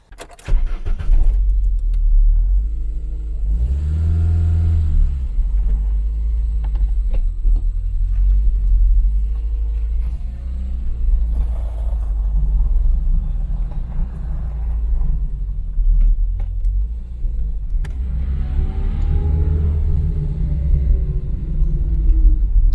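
A Renault 9 car with clutch issues on a test drive, its engine rumbling low and steady from inside the cabin with mild rises in revs and occasional rattles.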